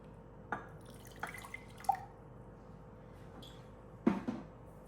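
Lemon juice dripping while a chickpea salad dressing is made: a handful of soft, separate drops fall at uneven intervals, faint and close, with quiet pauses between them and no talking.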